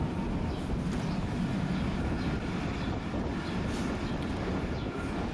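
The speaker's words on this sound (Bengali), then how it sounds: "এখানে আমরা অনেক দ্রুত গতিতেই ছুটে চলেছি যদিও এটি লোকাল ট্রেন" A fast-moving local train rumbles steadily on the railway in Gazipur, a continuous broadband roar of wheels and carriage noise heard from onboard, constant and moderately loud with no talk.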